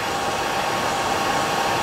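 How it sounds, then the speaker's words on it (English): A hair dryer blows steadily and close up, pushing back the fibres on a Waterhen Bloa wet fly during fly tying, a continuous even whoosh of air that runs unbroken throughout. "the hairdryer, I'm going to blow the fibre back"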